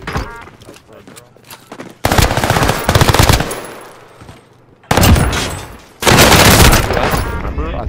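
Loud video-game gunfire erupting in sustained automatic bursts and rattling volleys, separated by short quieter gaps, with a person talking over the shooting.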